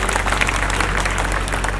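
A political rally crowd claps loudly and steadily, dense applause filling the whole stretch with no break.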